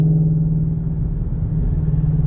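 A Ford GT500 engine drones steadily at low pitch in second gear, a deep continuous rumble from inside the car, loud and constant with no speech.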